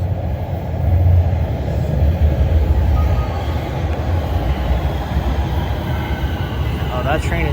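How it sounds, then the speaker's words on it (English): A TTC subway train approaching Highway 407 station, a low steady rumble that swells slightly and holds, loud and near, with a faint squeal at the end. "I hear another train coming."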